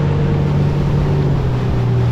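A fishing boat's outboard engine drones loudly and steadily up close, its tone rising slightly as it picks up speed, with water and wind noise underneath.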